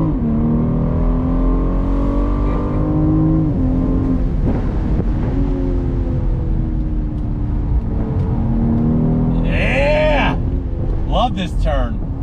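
A BMW M440i convertible accelerates in second gear on throttle, its engine note climbing steadily and loud from inside the car, with a voice talking over it.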